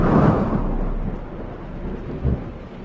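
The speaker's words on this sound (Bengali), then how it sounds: "কদিন থেকে যা বৃষ্টি হচ্ছে" Thunder rumbles deep and heavy through steady rain in a cartoon soundtrack, a loud opening roll that fades, then a second short thud, with no voices.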